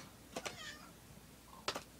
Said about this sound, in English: Star, stop meowing